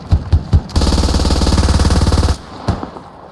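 Sustained automatic machine gun burst in the military shooter game Squad, a rapid steady rattle of about a second and a half, loud and close, preceded and followed by a few single heavy shots.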